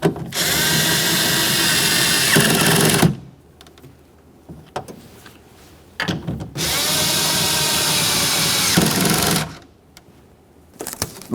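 A power tool drives in the 10mm window regulator mounting bolts on a 1994-1997 Honda Accord in two loud, close whirring runs of about three seconds each, separated by quiet handling clicks.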